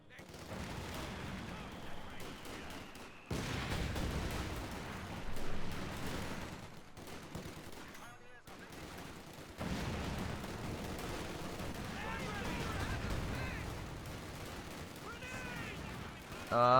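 Machine-gun fire from an MG team in Company of Heroes 2, a dense rattle of bursts and scattered battlefield gunshots running through most of the clip under a commentator's voice.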